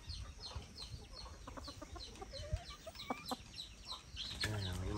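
Hens on a Philippine farm cluck in short, irregular calls at moderate distance, mixed with other bird chirps and a brief louder squawk near the end, with only faint outdoor background and no clear talk.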